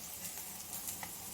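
Egg fried rice sizzles in a home kitchen pan, a steady faint hiss with soft crackling pops throughout the short stretch, with no talking.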